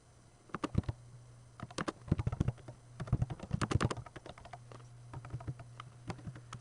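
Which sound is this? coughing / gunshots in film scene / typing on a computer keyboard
typing on a computer keyboard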